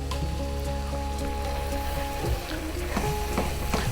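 Turmeric, garam masala, Kashmiri chili and coriander powders frying in a pan for lamb curry, a loud steady sizzle with scattered crackles and a brief stirring scrape midway.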